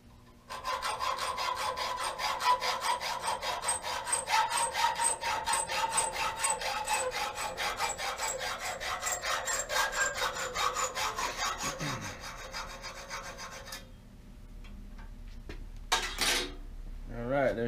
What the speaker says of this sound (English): Just going to trim the screw